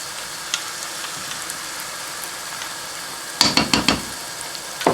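Chicken angara karahi sizzles steadily in a pan as yogurt is added, with a faint frying hiss throughout and a quick burst of several loud stirring scrapes near the end.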